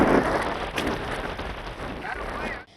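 Heavy unseasonal rain with strong wind over the salt-pan region of Surendranagar, a dense constant hiss of downpour on surfaces, loud and close, cutting off abruptly.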